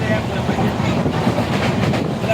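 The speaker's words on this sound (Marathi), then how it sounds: "तुम्ही केलंय का कधी प्रवास ट्रेनने मी शताब्दीने करत आहे" A Shatabdi express train runs steadily along the rails with a dense, continuous rumble and rolling clatter from the carriages, heard close from inside throughout.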